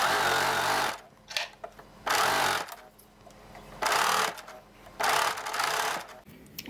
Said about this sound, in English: I'm at the serger. I'm serging my band on.